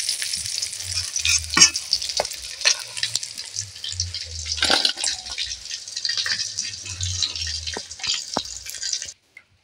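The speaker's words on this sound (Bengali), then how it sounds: "পটলগুলো নাড়াচাড়া করে তুলে নেব।" Pointed gourd pieces sizzle and fry in hot oil in a wok, with scraping stirs and clinks of the spatula coming close and steady through the whole stretch before it cuts off near the end.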